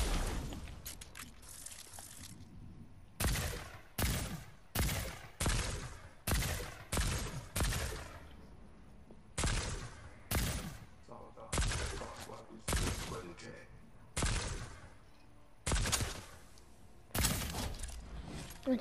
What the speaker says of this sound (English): he was totally shooting at someone else